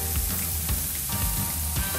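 Onions sizzle steadily in a hot pan or on a griddle for burgers, a loud, dense, continuous crackle with faint scraping underneath and no talk.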